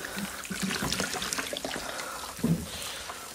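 Vegetables are rinsed under a running tap, a close, steady trickle of water with occasional splashes and soft handling sounds in a home kitchen.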